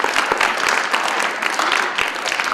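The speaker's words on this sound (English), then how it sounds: "Let's give them a round of applause." Crowd applause at a college athlete signing event, dense steady clapping from a nearby audience with individual sharp claps standing out, no talk over it.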